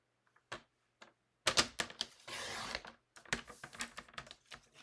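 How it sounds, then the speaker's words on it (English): Paper trimmer slicing through a scrap of cardstock during a paper craft project, heard as a short series of close, sharp clicks and scraping strokes with a brief sustained cutting swish in the middle. "So let's trim this other piece of scrap here."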